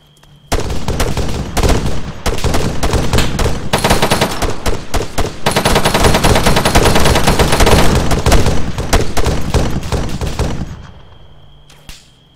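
Arma 3 infantry gunfire pours out in dense, loud bursts of rifle and machine-gun shots for about ten seconds before cutting off into quiet.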